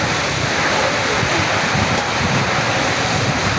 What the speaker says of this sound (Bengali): দেখুন ভয়ঙ্কর বৃষ্টি